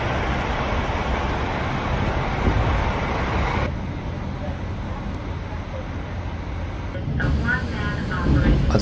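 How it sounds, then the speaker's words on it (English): A rapid Nosappu train pulls out of Kushiro Station in Hokkaido in winter, a steady loud rumble of wheels and engine filling the whole stretch, briefly shifting in tone partway through and swelling again near the end. "I'm going to board the rapid Nosappu train bound for Nero."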